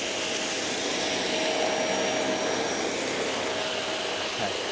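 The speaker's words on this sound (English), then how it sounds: "not only do you have an immensely powerful vacuum cleaner" A Dyson Cinetic Big Ball Animal vacuum cleaner runs on carpet, giving a loud, steady, unbroken motor whine and airflow rush without pause.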